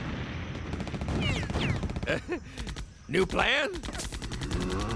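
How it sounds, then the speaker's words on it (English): Heavy artillery gunfire in a Donkey Kong Country cartoon battle scene: loud, continuous rapid blasts and explosions fill the clip, with cartoon voices shouting over the barrage. "They're using heavy artillery!"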